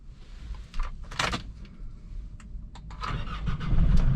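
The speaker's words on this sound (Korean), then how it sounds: "엔진 소리 들어보셨나요 지금?" A Hyundai Porter 2 truck engine cranks and turns over, then settles into a low, steady, quiet idle that grows slightly louder, with a few clicks and knocks early on.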